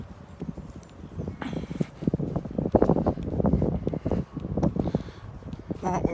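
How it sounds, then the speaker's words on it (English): Strong wind gusts buffet the microphone beside a lake, producing irregular bursts of rumbling, rustling noise that rise and fall throughout. "Very windy today though."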